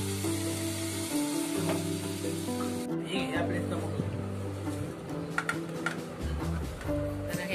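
A cauliflower vegetable dish is stir-fried in a pan on a gas stove, giving a steady soft sizzle with scattered ticking taps of stirring. Someone talks over it throughout.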